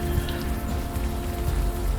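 Rain patters down steadily in Unavowed, a continuous spray of droplets striking a hard surface close around the listener, even in loudness and without a voice over it.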